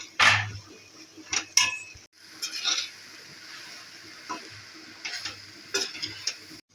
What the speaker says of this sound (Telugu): సో చూసారు కదండి, టమాటాలు వేసుకొని ఇలా కలుపుకున్నాము